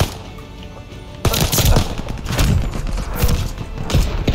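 Pistol shots in Call of Duty Vanguard multiplayer, rapid cracks firing in quick succession over a busy, noisy battle backdrop, with the volume jumping up once the shooting starts.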